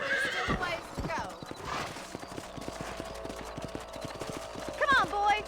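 Horse hooves galloping in Red Dead Redemption, a steady rhythmic clip-clop of a ridden horse with a neigh near the end, with faint mechanical creaks.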